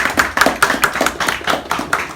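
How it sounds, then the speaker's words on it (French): Audience at an investiture ceremony clapping, a short burst of loud, close hand claps with an uneven rhythm. "Je vous invite aussi à applaudir Dr."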